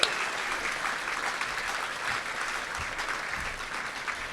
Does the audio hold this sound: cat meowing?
no